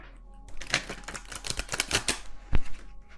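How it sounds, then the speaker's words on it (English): Tarot cards are laid down on a table during a reading, giving a quick close series of light crisp taps and clicks and ending with one louder knock, with no talk. "I'm just going to set down, to save time, one more card for each of these"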